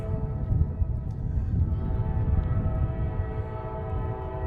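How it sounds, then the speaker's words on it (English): A train rolls past a college baseball field, sounding a sustained, loud multi-tone horn over the heavy low rumble of the rail cars, with no talking heard. "We got the 2:13 train getting ready to roll on by here at Cougar Field."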